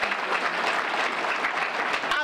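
A crowd at a community gathering claps steadily and densely for the whole stretch, a sustained wash of applause with no single claps standing out.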